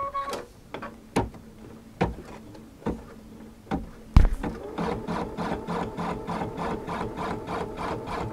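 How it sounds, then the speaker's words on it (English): Sewing machine stitching a basting stitch to hold fabric down, opening with several separate sharp clicks and short bursts, then settling into a steady, rapid mechanical chatter of needle strokes that runs on close and fairly quiet. "I wanna stitch that because I want that basting stitch to hold this fabric down"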